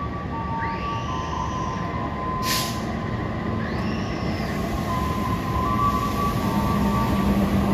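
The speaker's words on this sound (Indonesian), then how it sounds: "Dan ternyata ini kereta api Malabar tujuan akhir stasiun Bandung" A passing passenger train, the Malabar bound for Bandung, rumbles steadily nearby, with squealing wheel screeches sweeping up and a brief sharp burst in the middle; no voices.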